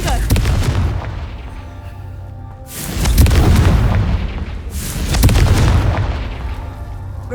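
The Confringo fire spell explodes in the Hogwarts Legacy video game: three heavy booming blasts a few seconds apart, each a loud burst that rumbles and fades into the next.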